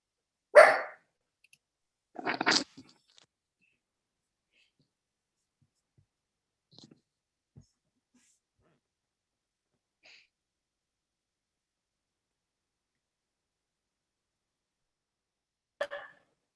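Dog barking in a few sharp, separate bursts in a quiet room during a township council meeting held over a call, loud at first, then long silence with faint clicks, then a final bark.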